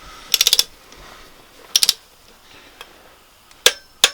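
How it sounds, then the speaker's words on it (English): A torque wrench clicks as it tightens the cylinder head bolts on a Mitsubishi FTO engine being reassembled. Short bursts of ratcheting come at roughly half-second and one-second spacing, then two sharp single clicks close by with no voices. "we'll grab the torque wrench and we'll start off with the 20 Newton meters to begin with"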